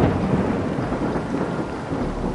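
Steady rain hisses over a low, rolling rumble of thunder, a continuous broadband wash that stays fairly loud throughout with no voices.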